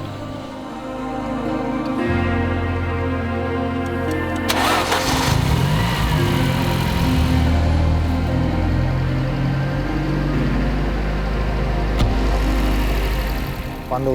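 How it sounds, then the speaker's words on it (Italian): A Ford Sierra Cosworth, a 485 HP two-wheel-drive build, cranks briefly for its first engine start, catches with a loud burst, then settles into a loud, steady idle up close, with some voices heard over it. "Oggi facciamo la primissima accensione del motore"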